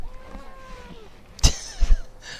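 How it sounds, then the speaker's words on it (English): A cat meows twice in short bursts in a fairly quiet room, the calls loud and close against faint background sound and game music. "Hopefully that meow came through"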